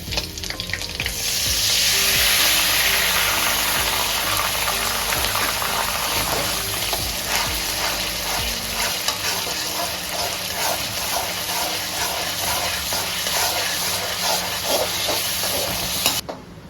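Chicken marinade juice poured into a pan of fried garlic for chilli chicken, setting off a loud burst of sizzling that settles into steady, vigorous frying close by, with no talking.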